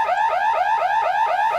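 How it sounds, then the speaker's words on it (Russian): An alarm wails in an abandoned laboratory, a loud warbling siren sweeping up and down in fast repeating cycles, close and continuous with no talk over it. "Так, блин, уже сигнализация работает"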